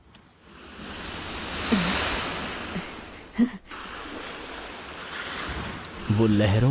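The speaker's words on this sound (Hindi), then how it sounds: "वो लहरों की आवाज सुनाई दे रही है ना" Ocean waves wash and roll in a steady surf, with a brief louder thump partway through and a voice starting to speak at the end.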